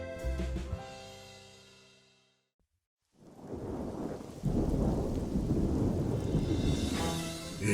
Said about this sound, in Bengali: এমন বৃষ্টি শুরু হলো যে এবার বন্যার জল ঢুকবে